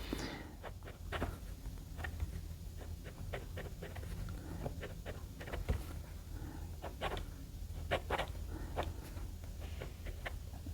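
A Moonman P135 fountain pen with a fine bent nib writes on paper, producing soft, close scratches and short strokes in an irregular rhythm against quiet background hum.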